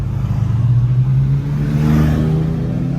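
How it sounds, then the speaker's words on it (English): A Ferrari F50 sports car passes on a street in St. Moritz, its engine note loud and close, swelling as it goes by and then holding steady. No one talks over it. "randomly an F50 is passing you"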